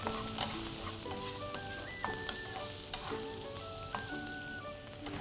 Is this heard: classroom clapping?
no